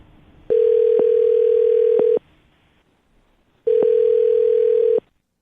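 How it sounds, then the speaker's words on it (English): A telephone call rings out after a number is dialed, with two long, steady ringback tones separated by a quiet gap, clear and close on the line. "I'm going to dial her phone number right now"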